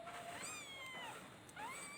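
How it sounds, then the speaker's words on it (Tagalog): A cat meows several times in short, rising and falling cries, fairly close, against a steady background hiss. "Meow meow. So cute. So cute."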